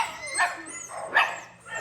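A rescued dog from the south Texas–Mexico border gives two short barks about a second apart, close and moderately loud over faint background noise.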